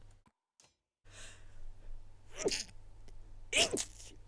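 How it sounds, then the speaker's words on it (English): A sneeze delivered straight into a close microphone during a Banner Saga strategy game session, with a sharp intake and a loud, explosive burst near 2.5 s followed by a second strong burst around 3.6 s, over a low steady hum. "Sorry for sneezing directly into the mic there."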